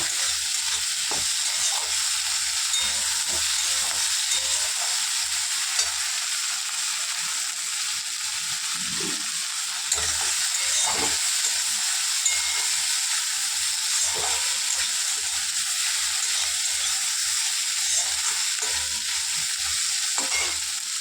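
Ridge gourd frying with a single chilli and oil in a pan gives a steady, loud sizzle that runs without a break, with a few soft stirring knocks and scrapes breaking in now and then.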